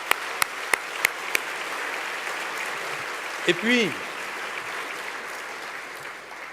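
Guests at a formal dinner honoring UNITAID applaud in a steady, even wash of clapping, with a few sharper claps near the start and a brief spoken voice partway through.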